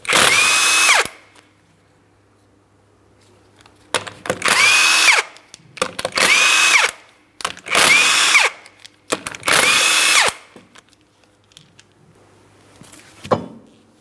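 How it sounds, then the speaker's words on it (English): A power tool, likely an impact wrench, zips off the five 19mm lug nuts on a 2003-2007 Cadillac CTS wheel in loud bursts, five about a second or so long with a shorter final one near the end, separated by brief pauses. "remove all 5 of your 19mm lug nuts so we can get the wheel off of here"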